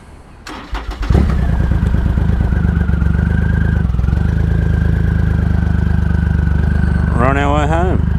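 A Triumph Rocket III motorcycle with a sidecar cranks and starts, then settles into a loud, steady, close engine drone with a slight dip in pitch midway, while a voice sounds near the end.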